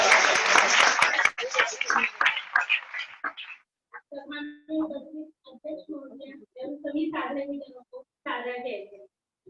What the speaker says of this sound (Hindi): एक बार जोरदार तालियों के माध्यम से